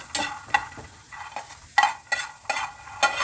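Peanuts dry roast in a pan without oil, rattling and scraping in irregular bursts as they are stirred, close and fairly loud, with quiet gaps between strokes.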